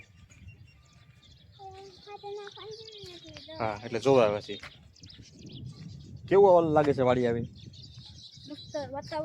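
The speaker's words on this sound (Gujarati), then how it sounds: "ઝીણા ઝીણા પક્ષી, નાના મોટા પક્ષી બોલે છે" Small birds chirp faintly and steadily in the background while a man and another person talk in the foreground outdoors.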